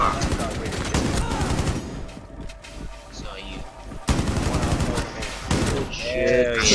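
Rapid light machine gun bursts in Rainbow Six Siege, loud repeated fire in two main stretches with a quieter gap between, mixed with game noise and voices talking.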